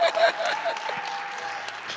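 A church audience applauds a preacher, a crowd clapping and cheering in a large room. A voice speaks over it, and the applause stays moderate and fades slightly over two seconds.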